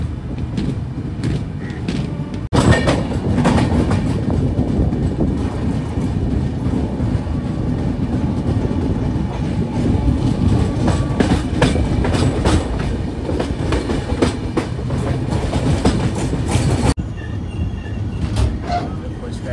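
A passenger train on the Dhone–Visakhapatnam route rolls steadily along the rails with rhythmic clickety-clack and carriage rumble, loud and close, as heard from on board.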